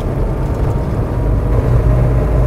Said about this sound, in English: You can hear the turbos kick in.